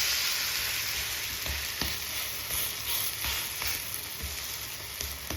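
An evening snack shallow-frying in oil in a pan, with a steady close sizzle throughout and a few soft scraping or turning clicks, no talking.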